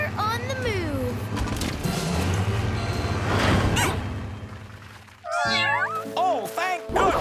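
Cartoon cats meow repeatedly in a farm cartoon with flood, voiced as animated kitties, their high wavering cries mixed with character speech, music and vehicle whooshes, then a clear solo meow burst near the end.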